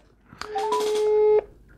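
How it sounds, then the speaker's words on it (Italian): A phone on speakerphone dials a call, with a short run of dialing tones, then a single long, steady ring tone. The sound is close and clear and cuts off abruptly. "lasciamo squillare"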